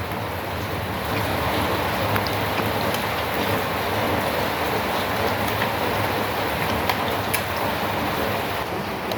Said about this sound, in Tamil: இன்றைக்கங்களே நல்ல மழையாக இருக்குது மழை பெய்கிறதால